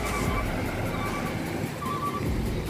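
A Honda Prima bus pulls out of the Padang Panjang bus terminal, its engine a steady low rumble with constant road and traffic noise throughout.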